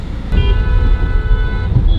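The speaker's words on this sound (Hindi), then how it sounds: "मेरे राइट हैंड साइड पे ट्रैफिक दिखना ये ट्रैफिक क्रॉस करके मैं अभी आया हूँ" Busy road traffic with cars and other vehicles rumbling past at close range, with steady engine noise and a couple of horn toots near the start and end; no talking.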